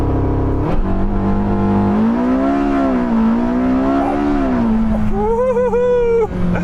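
A Porsche 918 Spyder accelerates hard during a 0-60 mph test, its engine rising steadily through the gears with a loud, close roar and a sharp upshift near the end.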